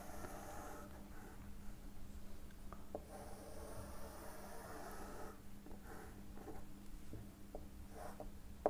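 Marker or chalk scratching on a board while a beam diagram is drawn, a faint continuous scraping of strokes broken by short pauses and light taps, heard alone with no talk.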